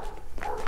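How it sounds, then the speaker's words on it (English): A guard dog in Spain gives a short bark or two, heard moderately close in a brief outdoor moment with no talking. "there is dogs. Everyone has a guard dog in Spain."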